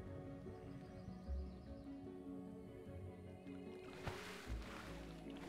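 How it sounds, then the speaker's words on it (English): Water sloshes and splashes as a character swims in a fantasy video game, soft and continuous under faint game ambience, with a brighter splash near the end. "Where's that splashing coming from?"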